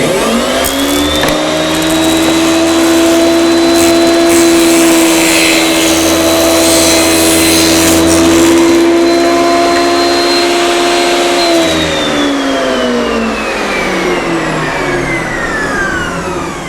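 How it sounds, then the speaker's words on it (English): Table saw ripping a thin wood strip, a loud, steady high whine that holds through the cut and then winds down as the blade slows, heard close with no talking. "So I'm going to go ahead and cut some off this real thin strip here."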